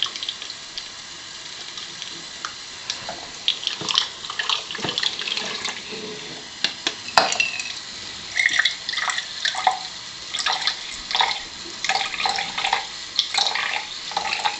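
Water pours steadily from the spout of an alkaline water ionizer into a container, making a continuous splashing, trickling stream with bubbly, gurgling bursts, close and alone without talk.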